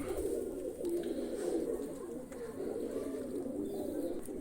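Pigeons coo in a continuous, layered murmur while grain is scattered for them at a loft, the low rolling calls steady and close throughout.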